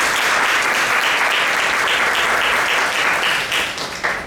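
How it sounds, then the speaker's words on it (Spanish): Audience applauding the guest speakers after a talk on food sovereignty: a dense, even roar of many hands clapping throughout, tapering slightly at the end. "un aplauso para ustedes"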